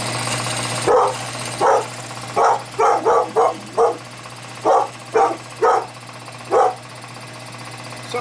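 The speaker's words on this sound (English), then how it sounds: "Sorry about the dog." A dog indoors in a jewelry workshop barks about a dozen times in irregular single and clustered woofs, fairly close and moderately loud, over a steady low machine hum, with no speech.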